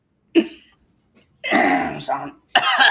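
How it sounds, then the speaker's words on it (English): A single sharp cough, then a burst of harsh coughing and throat clearing, close and loud, with short gaps of silence between. "Anyways, bad cough there."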